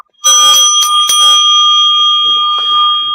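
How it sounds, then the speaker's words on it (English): A singing bowl is struck near and loud, giving a bright metallic ring with a couple of quick strikes early on, then a long, steady, shimmering tone that keeps sounding to the end, with no voices. "There's your singing bowl."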